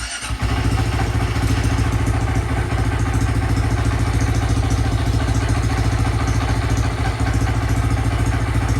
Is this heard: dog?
no